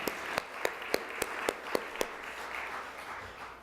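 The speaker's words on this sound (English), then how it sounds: "Let's give a round of applause to our eloquent health commissioner, Helen Colton Harris" A handful of sharp, evenly spaced claps from an audience at a public health month kick-off event sound over about two seconds, then give way to a low murmur of room noise.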